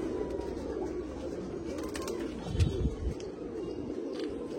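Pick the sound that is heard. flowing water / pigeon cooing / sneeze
pigeon cooing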